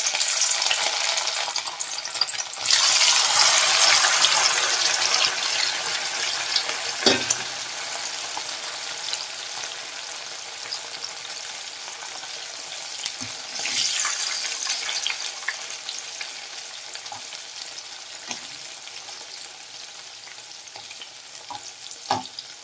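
Boiled egg pieces fry in hot oil for a Telugu-style egg pickle, a loud, constant sizzle with bursts of stirring and occasional clinks, and nobody speaks.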